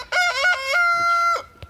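A rooster in a farm chicken flock crows once, loud and close, in a drawn-out cock-a-doodle-doo, followed by a short cluck.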